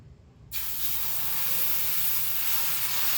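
Mung bean dosa batter hits a hot cast iron tawa with a sudden, loud, sustained hiss that starts abruptly and keeps sizzling steadily, close up and alone.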